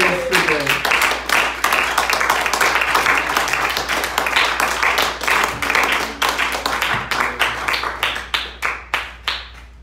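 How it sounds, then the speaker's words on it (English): A church congregation at a Wednesday night service clapping hands in praise, a loud, dense, sustained burst of applause that thins into scattered claps toward the end, with voices mixed in. "Let's give him a hand clap of praise today."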